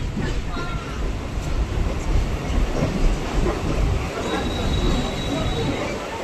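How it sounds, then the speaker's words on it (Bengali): Kalyani local train pulling into platform 4 at Dum Dum station, a steady loud rumble of wheels and carriages with faint squeal, continuous throughout without spoken voices. "ট্রেন আমাদের এখন প্রবেশ করছে 4 নম্বর প্ল্যাটফর্মে।"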